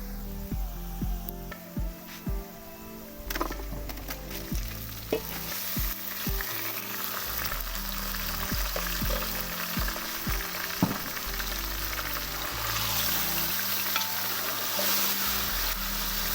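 Chicken sizzles and fries steadily in a hot pan, a continuous crackling hiss broken by occasional scraping and stirring knocks from a utensil, close and fairly loud throughout.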